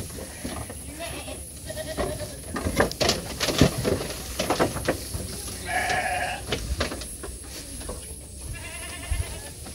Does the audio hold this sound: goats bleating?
yes